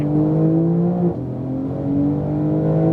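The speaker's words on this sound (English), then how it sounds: "Hard acceleration, guys." 2018 Porsche 911 Turbo S accelerating hard on a race track, a loud close engine note climbing steadily in pitch, dropping briefly at a gearshift, then rising again.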